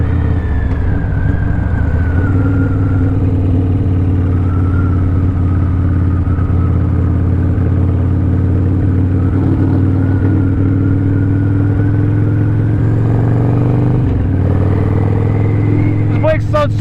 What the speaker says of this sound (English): This bike sounds so mean too. I love it. I got a little shorty bagger pipe on this thing